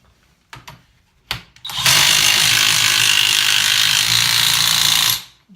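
A few faint clicks and knocks as a nut is fitted onto a car's strut top during a restoration, then a loud, sustained rattling whir of a power wrench tightening it for about three seconds before cutting off.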